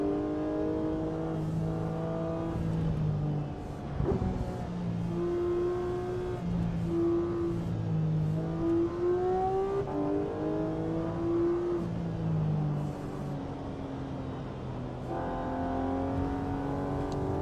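Race car engine in the AC EVO racing game, revving and shifting through gears as it drives, with a steady, loud, rising and falling tone throughout.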